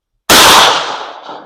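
A 16 gauge shotgun fires a single DGS slug at a range, one loud, sharp blast with a long, fading echo trailing off.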